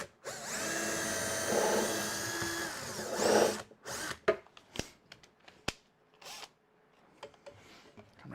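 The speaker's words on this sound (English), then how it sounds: "I'm going to put 3 screws in this one." A power drill drives screws into a lathe cart, giving a loud sustained whine that rises in pitch for several seconds, followed by short clicks, knocks and brief bursts of handling noise.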